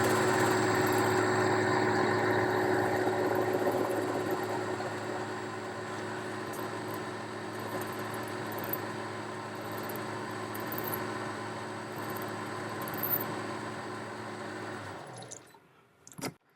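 A metal lathe runs while facing the front of a blank, a steady mechanical hum with tonal whine and faint cutting hiss, close and fairly quiet, fading as the machine winds down at the very end.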